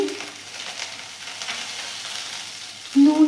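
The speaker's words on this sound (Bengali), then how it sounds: "একটু নাড়ব এবারে একে একে সমস্ত মশলাগুলো দেবো প্রথমে লঙ্কা গুঁড়ো দিলাম তারপর হলুদ গুঁড়ো দিচ্ছি" Chili powder and turmeric powder fry in hot oil for a Bengali koi fish jhal, giving a brief soft sizzling hiss that ends in a louder clatter.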